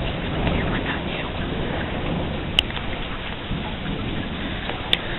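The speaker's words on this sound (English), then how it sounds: "It is raining though." Heavy thunderstorm rain pours steadily and close, a dense unbroken roar, with a couple of brief sharp cracks from the storm standing out above it.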